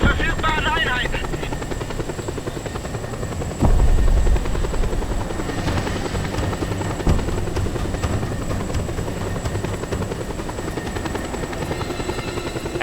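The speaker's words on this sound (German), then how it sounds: "Ein Heli auf den Fersen." Helicopter in the Just Cause 2 video game, a loud, continuous rotor thump and engine whine chasing the player, steady throughout, mixed with game effects and people talking over it.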